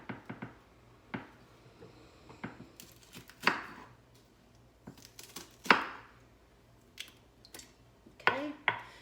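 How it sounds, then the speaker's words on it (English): A spoon scrapes the seeds and ribs out of a hot pepper in a kitchen, a series of quiet, close, irregular scrapes and wet squishes with gaps between strokes. "I'm just going to take a spoon and just scrape most of that seeds and ribs out."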